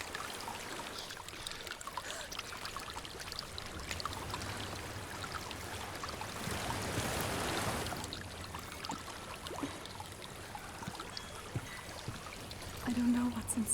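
A waterfall in the video game Hellblade: Senua's Sacrifice rushes in a steady, soft wash of flowing water that swells briefly midway, with faint game sounds around it.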